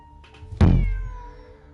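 A cat meows in the video game Genshin Impact, with one loud, close, drawn-out cry that fades slowly, preceded by faint soft sounds.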